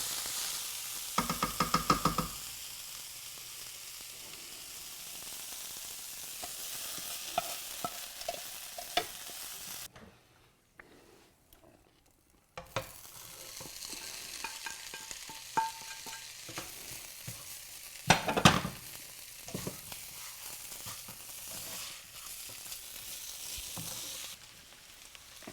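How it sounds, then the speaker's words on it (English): Onions cooking down in a pan give a steady, moderate sizzle, broken by occasional stirring clatter and a brief quiet pause midway, with no voices. "I'm cooking down my onions. I like to just cook it down a little bit"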